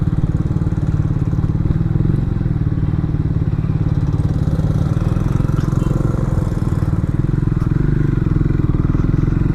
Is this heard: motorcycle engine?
yes